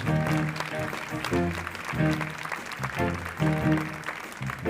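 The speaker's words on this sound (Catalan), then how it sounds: "Fort aplaudiment per a ella." Audience applause at a big band concert mixes with the band's sustained brass and rhythm playing, steady and fairly loud across the whole stretch.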